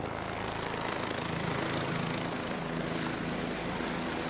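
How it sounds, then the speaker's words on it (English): A helicopter settles onto a helipad at a palatial estate, its engine and rotor making a continuous droning whine with a low pulsing thrum, steady and fairly close, with no talking. "A helicopter descends slowly into the helipad."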